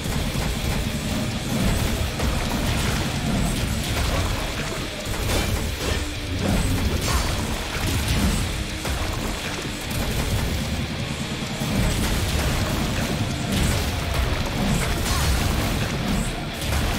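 Explosions in the video game Valfaris make a dense, loud, continuous roar of booms and crashes that runs unbroken from start to end.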